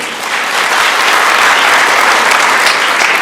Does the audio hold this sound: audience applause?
yes